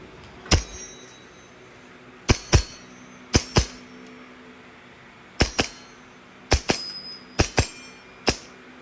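A toy R614-1 Pit Viper pistol is test fired, giving about a dozen sharp, close snaps, mostly in quick pairs separated by short pauses, with no talk over them.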